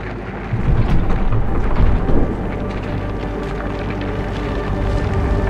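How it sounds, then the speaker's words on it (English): Storm in the video game Fort Solis, a steady loud rumbling wash of wind and rain with a heavier thunder swell near the middle, continuous throughout without clear talk. "Keep an eye on that storm."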